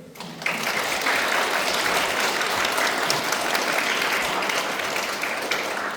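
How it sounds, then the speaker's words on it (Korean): A congregation at a Won Buddhist temple service applauds a professor, steady, full clapping that starts abruptly and holds evenly, close and loud with no voices over it. "박수 다시 한번"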